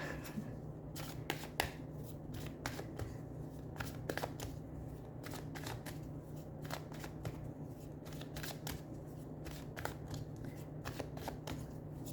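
Tarot cards are shuffled and dropped in quick, crisp riffling bursts, soft and close, repeating irregularly over a low steady hum with no talking.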